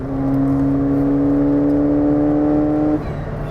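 A modified Ford Fiesta ST accelerates hard, its engine note climbing steadily in one long loud pull for about three seconds before easing off, heard from inside the car with no talk.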